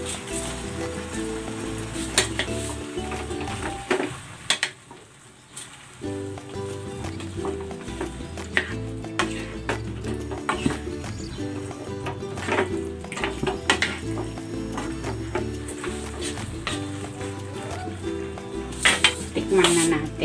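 Cabbage stir-fries in a pan for chicken chop suey, with continuous sizzling plus clattering spatula and pan scrapes close by, and brief talk over the cooking.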